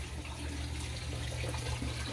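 Water runs steadily through a large fish tank filter and its hoses, a soft, continuous rushing and trickling with no talk over it.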